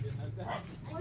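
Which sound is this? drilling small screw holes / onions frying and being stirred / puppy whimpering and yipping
puppy whimpering and yipping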